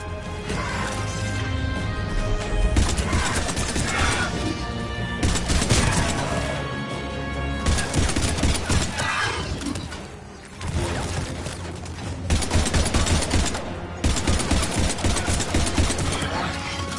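Sustained gunfire in Mass Effect 3 combat, dense bursts of rapid shots and crashing impacts under a loud music bed, pausing briefly before resuming in heavy volleys.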